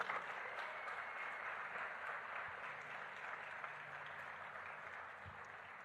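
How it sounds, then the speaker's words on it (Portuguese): A church congregation applauding during a service, a long, steady round of clapping heard at moderate distance, with an occasional low thump beneath it. "Você pode aplaudir a Jesus por isso?"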